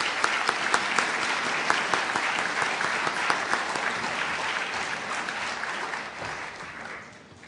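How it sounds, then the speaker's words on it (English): Applause from an audience at a university program, dense sustained clapping from a large room that holds steady and then fades out toward the end. "let me thank all those folks again with an applause"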